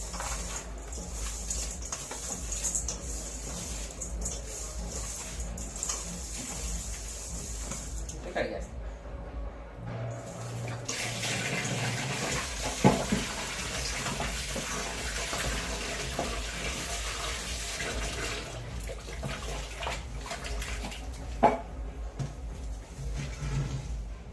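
Water runs steadily from a tap with splashing as chicken is rinsed underneath, a continuous gushing stream with brief pauses and shifts in flow.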